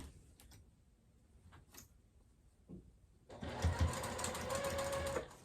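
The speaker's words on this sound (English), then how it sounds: "And then I'm gonna baste that at 1/8 of an inch seam allowance." A sewing machine bastes a zipper onto fabric for a wristlet pouch, starting after a quiet stretch of soft handling clicks and then running as a steady, fairly close whirring stitch to the end.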